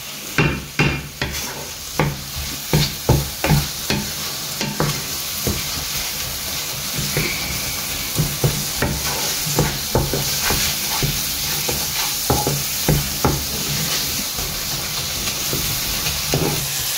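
Paneer masala fries on a high flame under constant sizzling, with repeated sharp spatula scrapes and clacks against the pan in an irregular rhythm, close and fairly loud.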